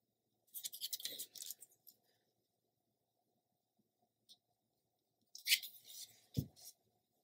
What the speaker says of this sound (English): So I'm going to trim a slim piece like this, the middle piece, and then another small piece,